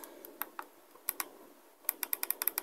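Keys pressed on a gaming keyboard: crisp, close clicks come singly at first, then a quick run of rapid presses at the end, sharp and fairly faint against near silence.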